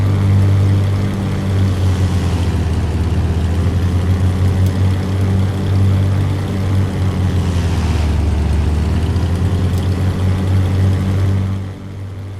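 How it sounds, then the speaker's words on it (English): A Beechcraft Duke's twin piston engines hold a 2,000 RPM run-up as the propeller pitch is cycled, a loud steady drone with swelling and dipping pulses as the blades change pitch. "Real-world pilots will be very familiar with the characteristic sound of propeller pitch change while exercising."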